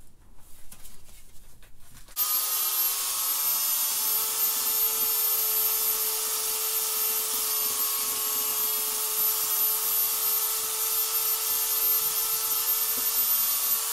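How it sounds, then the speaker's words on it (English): A finger sander sands wood on a chainsaw carving, a steady loud high-pitched whine with a constant tone running unbroken after a brief quiet start. "start sanding this stuff up and see what we got"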